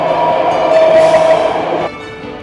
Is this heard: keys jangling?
no